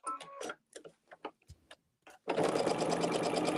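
Sewing machine stitching around the edge of a quilt block, starting with short stop-start bursts of needle clatter, then settling into a steady, loud, continuous rapid stitching run.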